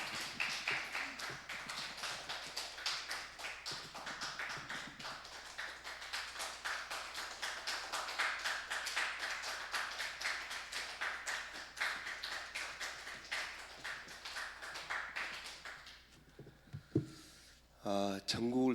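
A church congregation clapping to welcome the pastor at a Sunday service: dense, sustained, loud applause with fast rhythmic claps that fades near the end, followed by brief speech.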